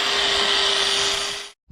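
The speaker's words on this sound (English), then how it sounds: "There he is, grinding off the shoes." A power grinder works brake shoes off a Fordson Dexta tractor, a loud steady whining grind for about a second and a half before it cuts out abruptly.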